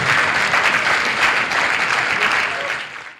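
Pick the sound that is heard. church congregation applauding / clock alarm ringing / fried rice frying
church congregation applauding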